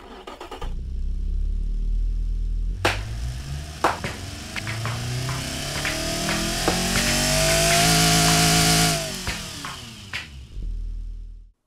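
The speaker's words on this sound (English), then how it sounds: "those pops and bangs right there from that engine" A car engine in the Automation and BeamNG.drive driving games revs up hard through a pull test, rising in pitch before cutting off, with sharp exhaust pops and bangs cracking out as the throttle lifts.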